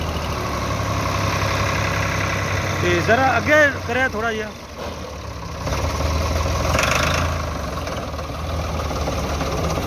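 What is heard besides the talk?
Ford 4610 tractor engine starting and idling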